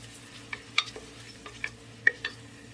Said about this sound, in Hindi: अनियन को हम ब्राउन करेंगे।